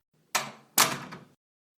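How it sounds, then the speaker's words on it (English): A door slides and bangs shut in two quick, loud bursts, a short push followed by a firmer closing thud, nearby and with no speech over it. "Yeah, shut the door."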